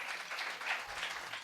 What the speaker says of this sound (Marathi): टाळ्या वाजून देवाला आपण गौरव